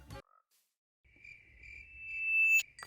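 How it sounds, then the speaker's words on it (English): Minecraft frogs croaking beside a pond, a soft steady ambient call rising in level over a couple of seconds after a brief click, with no talk. "And just like that, we have frogs."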